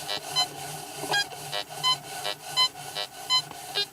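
Repeated short electronic beeps from a Fisher F75 metal detector at night pulse at an uneven pace over faint background hiss, each tone brief and fairly clear.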